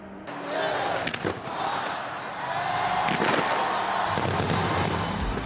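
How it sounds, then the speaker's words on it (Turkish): New Year fireworks over the Thames in London, a dense, noisy wash of bangs and crackle with crowd roar underneath, steady and fairly distant, with a few sharper bursts standing out. "Londra 2023'ü Thames Nehri kıyısındaki ışık ve havai fişek gösterileriyle karşıladı."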